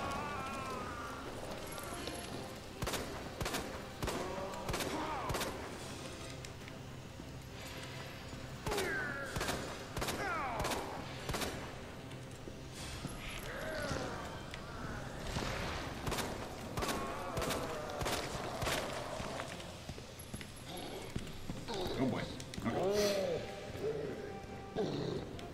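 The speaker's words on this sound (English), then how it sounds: "I'm gonna start shooting." Gunfire in Resident Evil 2 on Hardcore with Claire, repeated sharp shots spaced irregularly over game noise and creature roars, with someone talking throughout.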